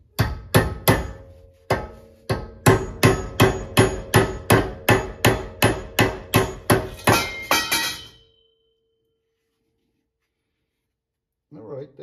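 An aluminum nail is hammered to work a stuck handle loose, a rapid run of about twenty loud, close metallic blows in a steady rhythm that stop abruptly. Silence follows, then a brief voice near the end.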